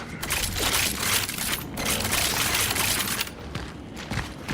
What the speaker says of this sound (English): Yeah, that's gonna be an explosion.